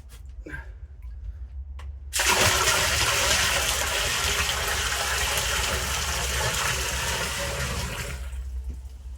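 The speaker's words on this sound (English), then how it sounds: "we're going to fill it up with some spring water" After a few faint knocks, a steady, loud rush of spring water pours into a container nearby and continues for several seconds before easing off.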